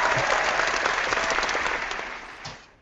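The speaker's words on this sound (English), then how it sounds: "That actually deserves a round of applause." Canned applause sound effect on a podcast, a steady wash of crowd clapping that tapers and fades toward the end.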